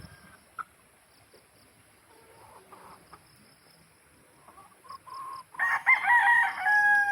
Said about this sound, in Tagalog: Dako-dako pati na yung chicken.